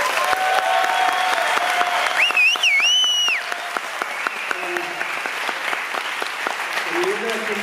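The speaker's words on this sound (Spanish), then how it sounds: "Un aplauso rápido." Cinema audience at the Sitges film festival bursting into quick, dense applause that fills the room, with a voice talking over it near the middle before the clapping thins slightly and continues to the end.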